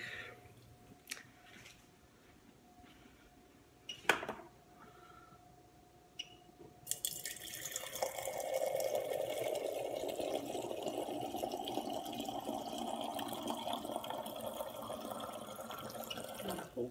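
Water runs into a glass from a tap, rising into a steady broadband rush of pouring and filling after a few faint knocks, close and fairly loud, with no talking.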